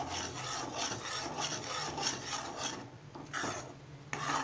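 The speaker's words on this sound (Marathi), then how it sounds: "आता हे असं सतत ढवळत राहायचं आपण।" A spatula scrapes and stirs Maharashtrian-style egg bhurji in a pan, a close, continuous rhythmic rasping with regular strokes and no voices.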